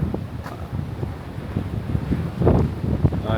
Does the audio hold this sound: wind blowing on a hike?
yes